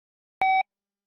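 A single short electronic barcode scanner beep at a checkout, clean and steady, lasting about a fifth of a second against silence.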